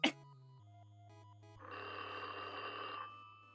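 An electronic telephone ring from the video game Therapy with Dr. Albert Krueger plays as sustained, buzzy synthesized tones after a short chime, quiet and without speech.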